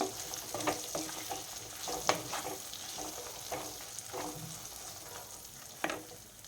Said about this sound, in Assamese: এইখিনি ভালকৈ লৰাই ল'ম